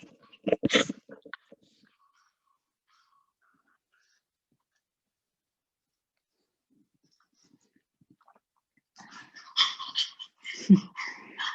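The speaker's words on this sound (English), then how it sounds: "That's not me panting, by the way, that's my dog." A dog's quick breathy panting and snuffling close by, in short bursts separated by a long quiet stretch.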